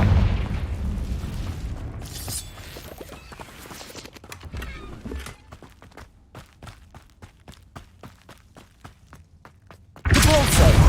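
A Confringo blasting spell goes off in Hogwarts Legacy: a loud, sudden explosion crashes in at the end after a long stretch of rhythmic footsteps, with an earlier burst of blast noise near the start.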